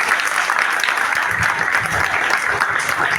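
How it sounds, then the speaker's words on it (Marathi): An audience at a school event for children claps warmly, with dense, loud applause that holds steadily throughout. "त्यांचे खरं एक टाळ्या वाजून मनापासून आभार व्यक्त करा मोहन आंबेकर साहेब रुपेश मोरे साहेब"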